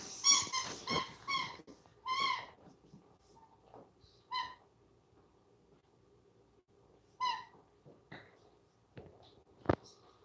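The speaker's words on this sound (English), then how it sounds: "My dog squeezing the squeaky toy in the background agrees." A dog squeezes a squeaky purple hippo toy, giving a string of short, high squeaks in bursts that fade toward the end, with occasional faint sounds in between.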